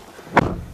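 A Subaru Levorg car door slams shut once, a single close, solid thunk standing out briefly against a quiet interior background.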